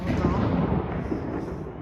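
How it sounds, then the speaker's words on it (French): Firecrackers crackle and pop on the eve of Chinese New Year, a dense, continuous burst of loud bangs heard from a short distance with no pause. "on entend les pétards parce que c'est le nouvel an ce soir"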